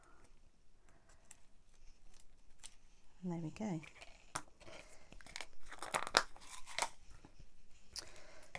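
Scissors snip and crunch through paper in quick close cuts, mixed with crinkling, while someone speaks briefly.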